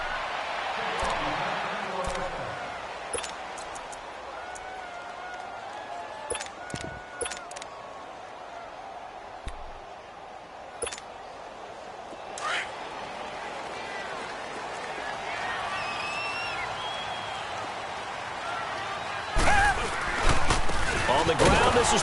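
A raucous crowd roars steadily through a stadium at an NFL football game, a broad continuous wash of noise with occasional sharper bursts and swells near the end.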